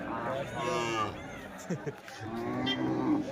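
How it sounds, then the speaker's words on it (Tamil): Native hill cattle from the Javadhu hills at a livestock market moo in several long, low calls, fairly near, over a busy background with people talking. "இந்த மாடுங்கள்லாம் சுத்தமான நாட்டு மாடுங்க ஜவாது மலையில் வாழக்கூடிய மாடுங்க"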